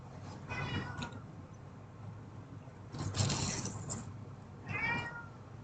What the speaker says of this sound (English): I apologize for his meowing in the back